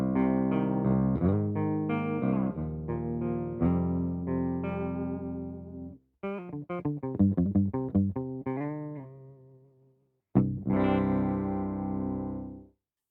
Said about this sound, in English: So this is how the amp sounds just as it is.